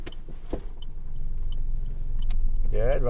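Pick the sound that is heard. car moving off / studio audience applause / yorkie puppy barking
car moving off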